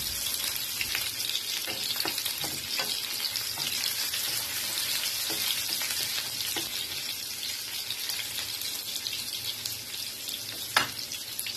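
Garlic, finely chopped ginger and chilli fry in hot oil with cumin seeds, a dense, steady crackling sizzle close up with faint occasional pops and stirring taps throughout.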